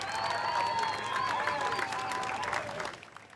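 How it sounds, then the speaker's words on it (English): An audience at a surfing world title event in San Clemente gives sustained applause and crowd noise, with voices and whistles riding over the clapping throughout. "Let's give them a round of applause"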